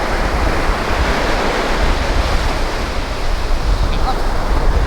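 Sea waves break on the sandy beach at Lunan Bay, Scotland, a loud, continuous roar of surf mixed with wind buffeting close to the microphone.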